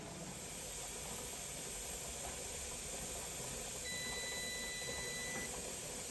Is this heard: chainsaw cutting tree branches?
no